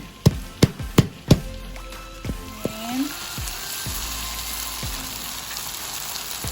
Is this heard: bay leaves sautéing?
yes